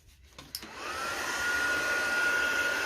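A hair dryer clicks on and rises to a steady, close whine as it dries stencil spray paint on a journal page, running alone after a few soft handling clicks.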